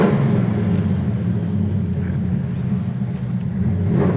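Engine of a 1969 Chevelle Malibu SS with a 4-speed, a steady loud low rumble throughout, the V8 note holding under load as the car pulls.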